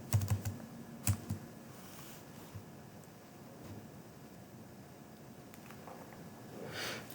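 Computer keyboard typing in a quiet room, a quick burst of keystrokes at the start and a few scattered clicks after, faint and alone.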